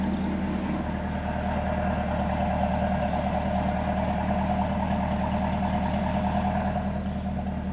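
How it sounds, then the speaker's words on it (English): A 2022 Chevrolet Camaro ZL1 with a Corsa catback exhaust, valves closed, idles with a steady, muted low rumble, even and continuous at close range, no talking. "That's the exhaust with the valves closed"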